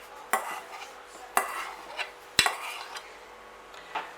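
A spoon or spatula knocks and scrapes against a bowl while egg whites are folded into lemon and blueberry pudding mixture, with three distinct taps and soft strokes in between.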